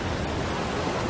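Broad, steady roar of high ocean waves surging, an unbroken wash of surf noise at fairly loud level with no distinct breaks, heard alone.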